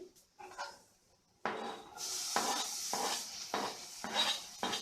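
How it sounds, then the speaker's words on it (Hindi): Chopped tomato goes into a pan of lightly pink fried onions and is stirred, with a quiet scrape followed by a series of loud rhythmic sizzling stirs. "अब हम इसमें अपना टमाटर ऐड कर देंगे।"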